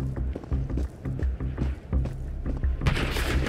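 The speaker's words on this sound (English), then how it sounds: "Oh, that was a lot of gunfire." Gunfire in the VR shooter Into the Radius at an outpost: a rapid series of sharp shots and booming thuds in irregular bursts, close and loud, ending in a harsh burst of noise.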